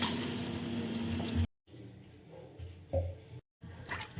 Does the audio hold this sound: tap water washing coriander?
yes